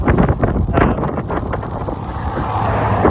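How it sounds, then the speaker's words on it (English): Strong wind buffets a microphone outdoors on a walk across Kansas, a loud, continuous low rumble with gusty swells that stays steady throughout, with no voice heard. "oh, this wind is so bad"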